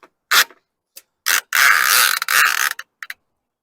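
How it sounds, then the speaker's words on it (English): A Swagman E-Spec RV double bike rack's J bracket clicks and ratchets into place, a few sharp clicks followed by a longer grinding ratchet run, close and alone. "you'll hear it ratchet in place"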